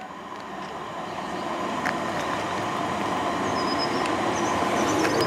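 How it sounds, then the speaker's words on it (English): An HST high speed train roars through a station on the Great Western main line, a broad, loud rushing rumble that builds steadily and holds, with faint wheel squeals over the top. "And here comes the HST."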